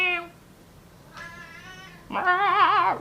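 Three separate cat meows, the first short, the last loudest and most drawn out with a wavering pitch, heard close with no talking.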